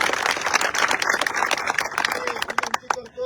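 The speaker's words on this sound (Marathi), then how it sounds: "पुन्हा एकदा निलंग्यातल्या जनतेच्या वयासाठी जोरदार टाळ्या वाजवा" Crowd at a Congress party street rally clapping, a dense burst of applause that thins out toward the end, mixed with a voice addressing the gathering.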